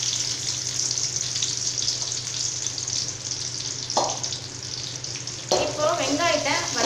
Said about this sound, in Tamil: இப்போ வெங்காயத்தை வதக்கிக்கலாம்.